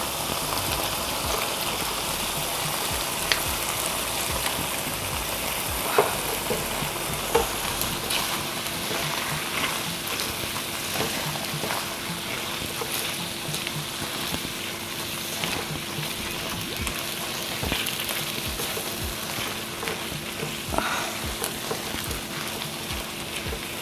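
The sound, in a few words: mixed vegetables stir-frying in a pan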